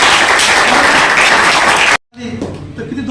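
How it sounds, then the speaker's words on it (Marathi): Loud, dense crowd applause at a retirement ceremony for about two seconds that cuts off abruptly, followed by quieter room noise with some voices. "त्यासाठी जोरदार टाळ्या वाजवा"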